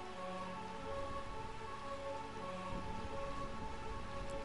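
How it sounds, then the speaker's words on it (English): Steady rain falls in Burmecia, the realm of eternal rain in Final Fantasy IX, a constant close hiss with no talk, backed by a sustained tonal game music bed. "We are in Burmecia, the realm of eternal rain."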